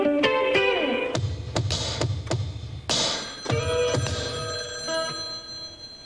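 Telephone bell ringing repeatedly in bursts indoors, loud and close, with a sitcom-style scene setting and no talk over the rings.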